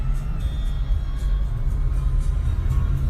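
A truck driving through slow road traffic near farmland in Dallas, Texas, heard from inside the cab as a steady low engine and road rumble, constant and moderately loud, with no talking.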